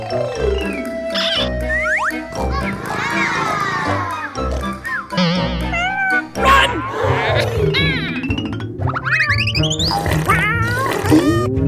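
A kitten meows repeatedly, high and insistent, with many overlapping cries and some other sounds mixed in throughout.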